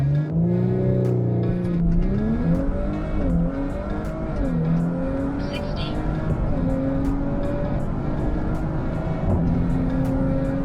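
Stock-turbo Audi B9 S4 accelerating hard on all-season tires during a drag run, a loud sustained engine note rising in pitch through several gear changes, with voices talking over it.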